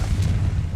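Confringo fire-blast spell exploding in the Hogwarts Legacy video game, a deep, rumbling boom that fills the short moment with heavy low-end energy, loud and sustained without a sharp separate attack.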